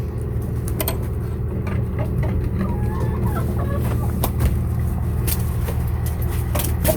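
Chickens cluck and chatter close by over a steady low rumble of background noise, with occasional sharper calls breaking through.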